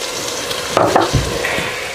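Tomatoes dropped into a hot pan for a samosa chaat masala, giving a steady close sizzle with a brief clatter and a stirring scrape partway through.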